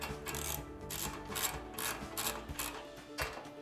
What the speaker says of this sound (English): we're gonna take our 13mm socket